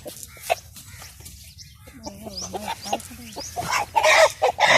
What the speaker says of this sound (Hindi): एक और मैं आपको मुर्गा दिखाता हूँ।